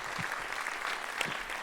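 Audience at a Démos youth orchestra concert in Roissy Pays de France clapping warmly, a dense even patter of many hands, moderately distant and sustained for the whole moment.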